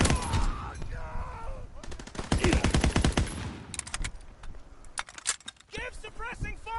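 Light machine gun fire in a WWII video game crackles in rapid bursts, with a dense volley near the middle and scattered shots after, under lively player talk throughout.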